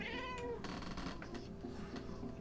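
A pet cat named Tigger lets out a single clear, drawn-out meow up close, followed by faint rustling and background hum.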